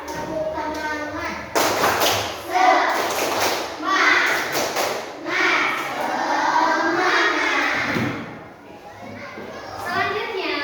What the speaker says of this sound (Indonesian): Semangat dulu Adifa. Tepuk semangat.